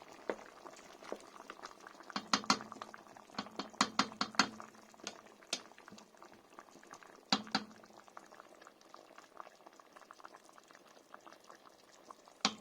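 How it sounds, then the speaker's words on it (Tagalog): Chicken curry simmers in a pot with a continuous bubbling burble, dense popping bursts that swell and fade, heard close and fairly quiet with no talk. "Hanggang kumulo at matunaw yung ating linagay na panlasa, chicken curry."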